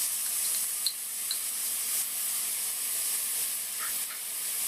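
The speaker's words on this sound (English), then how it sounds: "Now saute these onions, ginger and garlic together on medium flame" Onions, ginger and garlic sauté together in a pan over medium flame, producing a steady, moderately quiet hiss and sizzle with occasional small pops and stirring clicks.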